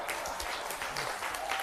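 Audience applause at an onstage conversation event, a brief, steady patter of many hands clapping at moderate volume with a faint voice underneath.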